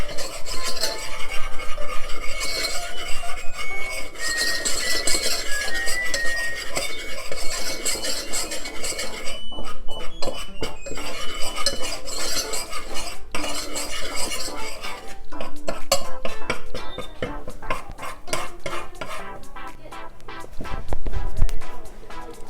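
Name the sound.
stirring flour batter for pizza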